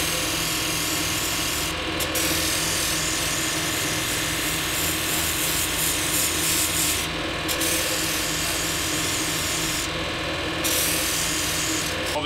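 A belt grinder runs on a red polishing belt as a golf club head is pressed against it, a loud constant mechanical whir with rattling grit texture and periodic brief surges as the head meets the belt.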